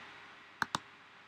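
Two crisp computer mouse clicks close together, near and fairly loud, standing out against a faint steady background hum in an otherwise quiet room.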